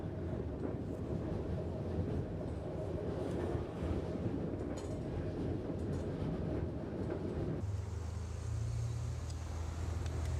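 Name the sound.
regional TER train passing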